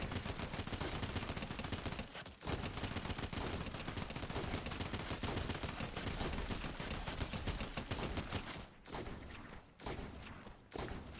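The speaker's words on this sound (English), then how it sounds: "Don't know why I'm shooting him, it doesn't do any damage." Rapid automatic gunfire in Fortnite aimed at a boss: a dense, continuous stream of shots with a few brief pauses, loud and unbroken, no talking.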